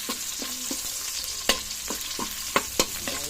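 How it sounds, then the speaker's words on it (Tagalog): Onions fry in a pan for a Filipino sautéed chayote dish, a steady hiss underneath repeated clinking scrapes of a utensil stirring them, about a dozen spaced strikes with a few louder knocks. "Ininix natin ang sibuyas."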